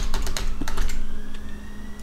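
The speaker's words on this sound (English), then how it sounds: "Type in your password." Fingers typing a password on a computer keyboard, a quick close run of crisp key clicks that thins out toward the end, with no talking.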